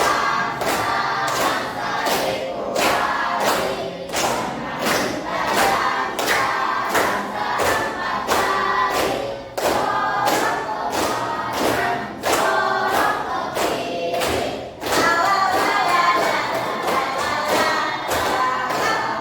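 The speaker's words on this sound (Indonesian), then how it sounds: "Kita nyanyi bareng-bareng sambil tepuk tangan, ya." A group of voices sings together to steady, evenly spaced hand claps, loud and close, keeping a bouncy rhythm throughout.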